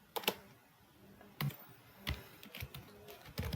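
Sparse keystrokes on a computer keyboard as a short Python print command is typed, a few separate clicks with a short burst at the end, close and clear in an otherwise quiet room.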